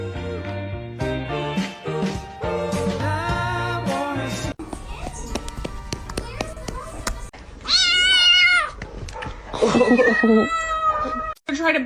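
Kittens meow and cry loudly and repeatedly, with close, high, wavering calls that overlap and come in bursts throughout, over a busy background.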